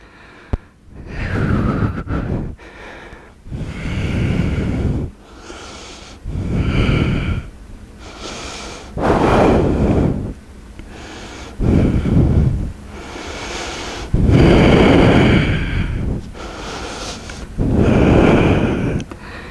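Deep ujjayi breathing during a vinyasa yoga flow, with the throat constricted. Long, loud, rasping inhales and exhales alternate in a slow, steady rhythm over about eight breaths, close to the microphone and with no talk.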